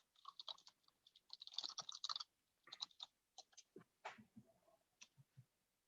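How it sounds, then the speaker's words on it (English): Someone types on a computer keyboard in quick, irregular bursts of faint, close key clicks separated by short pauses, with no talking. "I heard typing."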